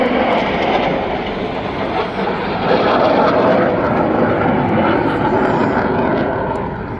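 A display jet at an airshow flying low and accelerating, a loud sustained roar of engine noise that swells slightly mid-way and holds steady, with no voices over it.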